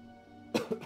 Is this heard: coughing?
yes